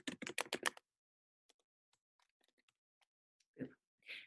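Computer keyboard keys struck in a quick burst of about eight clicks, followed by scattered faint taps and a final couple of louder key presses such as the return key, close and clear with no talk.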